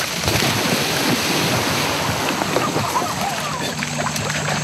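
A person is tossed into water, throwing up a heavy, continuous wash of splashing and churning surf that roars close and loud for several seconds without a break.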